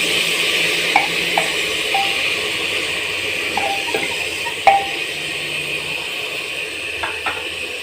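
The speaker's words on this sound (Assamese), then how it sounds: "আৰু অকণমান লৰাই দিম এইখিনি" Assamese lai leaf khar stirred in a pan, a steady low sizzle with scattered light clinks and scrapes from the utensil against the metal, close and moderately loud, no talk.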